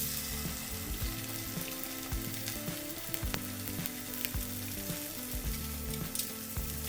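Rack of lamb sears loudly in a hot pan, a steady dense sizzle with spitting crackles and occasional sharp clinks as the meat is turned with tongs.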